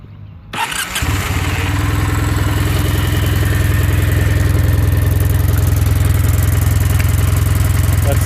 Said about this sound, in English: start it up and hear how quiet the standard exhaust is.